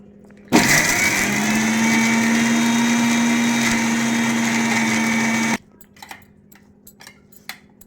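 A kitchen mixer grinder blends mango and ginger for pickle, starting abruptly with a loud, steady whirring motor hum that runs for about five seconds before cutting off, followed by faint clinks and handling noises.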